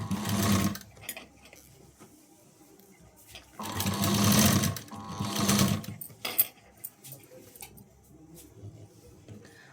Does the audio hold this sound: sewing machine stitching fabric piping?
yes